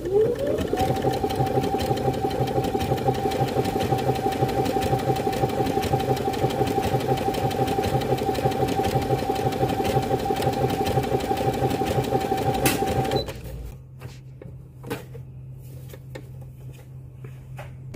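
A Brother sewing machine runs an overlock stitch along the edge of fabric, a steady, fast mechanical whirr lasting about thirteen seconds before it stops, leaving faint clicks and a quiet hum.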